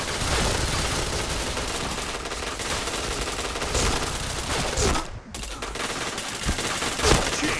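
Sustained rapid gunfire from Point Blank fills the whole stretch, a dense continuous rattle of shots with a brief break before the firing resumes.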